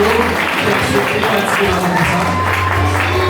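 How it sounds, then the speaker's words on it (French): A hall audience at a slam poetry contest claps warmly, a dense steady wash of applause lasting throughout, with a low hum beneath. "On nous applaudit très chaudement encore une fois"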